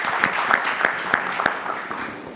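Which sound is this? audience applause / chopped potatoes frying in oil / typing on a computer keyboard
audience applause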